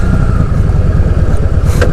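A 2019 Kawasaki Voyager motorcycle's engine drones steadily while engine braking on the road, a close, loud, even mid-pitched rumble with a brief hiss of wind near the end.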